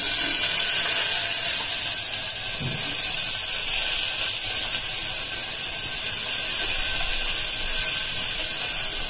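Rice fries in hot oil in a pan, a steady loud hissing sizzle that continues evenly throughout with no talking.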